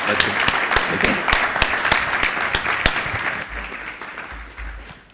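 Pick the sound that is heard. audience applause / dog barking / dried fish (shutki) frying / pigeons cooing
audience applause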